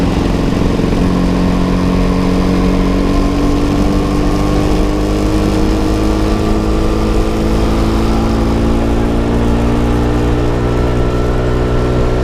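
Vespa P150SE Strada scooter engine running steadily, a close, loud two-stroke drone with a slightly rising pitch and constant vibration throughout, no talking.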